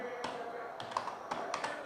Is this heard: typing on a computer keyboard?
yes